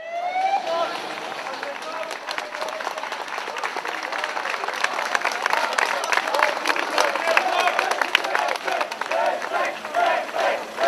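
Protesters applaud an intensive care ambulance crew, a dense outdoor crowd clapping steadily and loudly, with a siren-like tone briefly at the start and voices mixed in.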